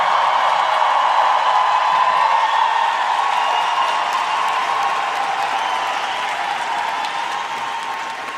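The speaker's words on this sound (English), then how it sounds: "Brothers and sisters, another round of applause for the Palestinian Youth Ensemble." Sustained audience applause with some cheering at a Palestine conference, honouring a youth music ensemble; dense, loud clapping from a large crowd that slowly tapers toward the end.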